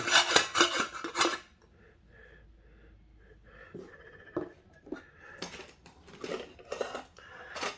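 Metal lid from a DS 308 camping cookware set, clattering and clinking in a quick burst of bright metallic knocks, then a quiet pause, then several more scattered clanks and scrapes close by.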